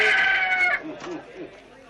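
A rooster crows once, loud and close, its strained call trailing off after under a second into fainter clucking, just before a cockfight.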